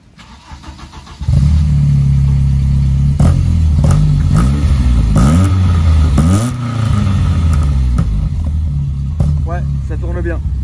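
A car engine cranks and catches after about a second, then runs loudly and close with several rising and falling revs over a steady idle, out on a street.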